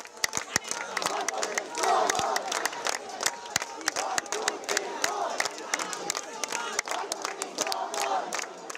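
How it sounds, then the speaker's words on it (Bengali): Students at a university campus in Bangladesh chant protest slogans in unison, a crowd of voices rising and falling in rhythmic shouts with scattered claps, at a moderate distance. "আবাসিক হলে ছাত্র রাজনীতি নিষিদ্ধের দাবি জানিয়ে স্লোগান দিতে থাকেন শিক্ষার্থীরা"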